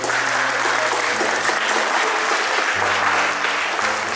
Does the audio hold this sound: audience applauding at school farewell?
yes